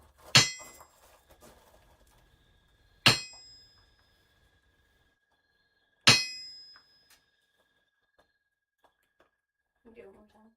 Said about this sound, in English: I like the sound of the hammer on an anvil.